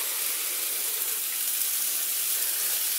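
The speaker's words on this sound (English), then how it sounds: "Get these to start frying up." Meatballs frying in a pan, giving a steady, loud hiss and sizzle that runs unbroken throughout, with no voices over it.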